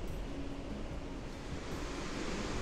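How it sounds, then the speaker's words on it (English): Waterfall at Twin Falls, Washington, in a snowy winter landscape, a faint, distant, steady rushing hiss with no voices. "Okay, so here's the waterfall."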